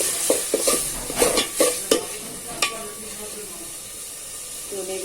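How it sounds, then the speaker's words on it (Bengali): Chopped onions being stirred in about a cup of hot oil for a goat trotters curry, with steady sizzling and several sharp scraping strokes of the spoon early on, close up and fairly loud. "তো নেড়ে চেড়ে দিচ্ছি।"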